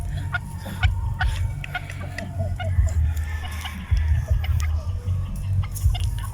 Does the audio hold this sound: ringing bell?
no